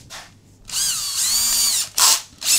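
A cordless drill whirs up close in several bursts, one long whine rising and falling in pitch, then two short quick pulses.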